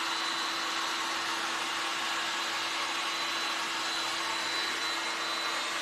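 Electric dryer blowing air over a painted resin tray in a craft setting, a steady loud whirring hiss with a constant motor hum that runs unbroken from start to finish, with no talk.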